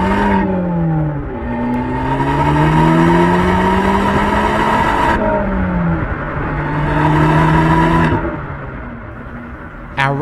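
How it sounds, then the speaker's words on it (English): A Fiat Abarth 500 SS turbo hatchback drives along a winding road, its engine loud and close, revving up through gears in rising sweeps, dropping at each shift, then climbing again. "Our ride today is an exciting little pocket rocket, the Abarth 500 SS."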